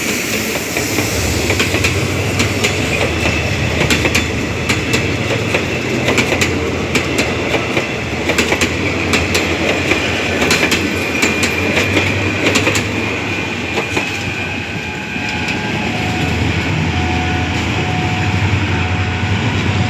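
A Hitachi diesel locomotive hauls an ordinary passenger train through Thailand, a loud continuous rumble with rail clatter and a hiss that runs steadily throughout.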